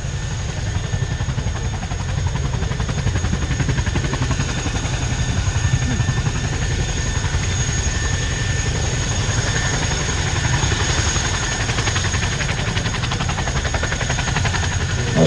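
A military helicopter at an air show, carrying a quad bike, makes a steady, loud rotor thump and engine drone that fills the whole stretch, with a constant whine riding on top and no break in the noise.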